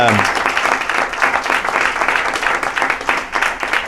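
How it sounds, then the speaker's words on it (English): A crowd applauds a guest at the close of a startup and venture capital discussion, with loud, continuous clapping throughout and a brief voice at the very start. "can we give John Henry a round of applause?"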